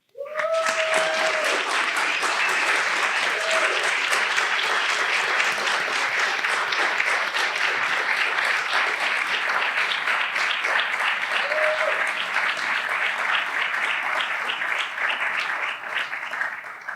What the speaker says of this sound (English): I'd like to ask the faculty to stand and give you a round of applause